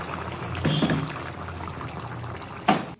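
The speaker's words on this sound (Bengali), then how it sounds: "এবার আমি গরম জল দিয়ে দেবো" Hot water is poured into a pan of chicken curry with potatoes and pointed gourd, a close sizzling, bubbling pour under a faint background hum, ending with a sharp clatter.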